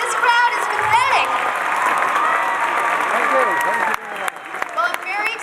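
Crowd applause and cheering at a political rally for John Carr of the Maine Council of Senior Citizens, dense clapping with whoops carrying on for several seconds before thinning out.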